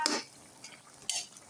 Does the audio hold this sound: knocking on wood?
no